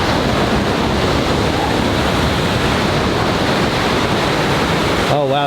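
The Rogue River rushes through a narrow rock gorge, cold water surging in a loud, steady, broadband roar with no letup, and a voice briefly breaks in at the very end.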